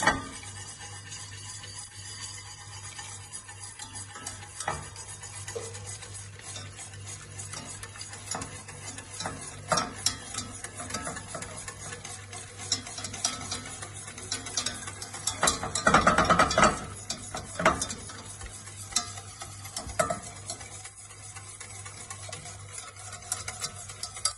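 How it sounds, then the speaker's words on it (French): Hot milk is stirred little by little into a cooled roux off the heat for eggs Florentine, with soft continuous scraping and clicking of the utensil in the pot and a louder stirring stretch near the middle. "On va l'incorporer à feu éteint, petit à petit, tout en brassant."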